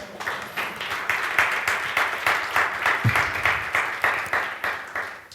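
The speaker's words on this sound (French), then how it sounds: "Applaudissons le Seigneur." Rhythmic clapping from a church congregation, steady beats repeating about twice a second, loud and close with no voices over it.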